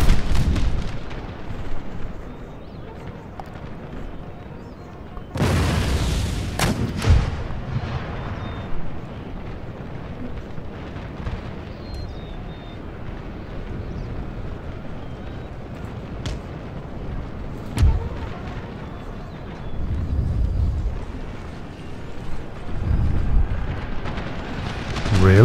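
Musket volleys and booming artillery from a large Empire: Total War battle roll on for the whole stretch, with a massive blast near the start and further heavy thuds, under faint talk.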